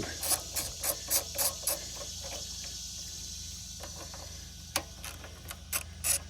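Phillips head screws being backed out of the breather box on a Predator 212 engine, heard as clusters of quick ratcheting, clicking tool strokes close by, with a pause before a few more clicks.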